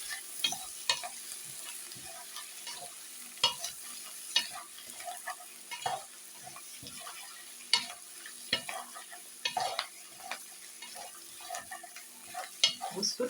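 Beef tripe returned to a pot with onions, stirred and frying: a steady sizzle under repeated scraping stir strokes, close and moderately loud with no talking.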